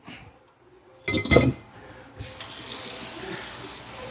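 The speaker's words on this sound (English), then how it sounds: "Get this pot in the sink." A pot set into a kitchen sink with a faucet running, a clank and splash around the middle, then a steady rush of tap water filling the basin to the end.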